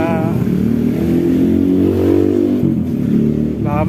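An old, long-unused van engine starts and revs, its steady mid-pitched drone rising and falling close by for a few seconds with a brief dip partway through.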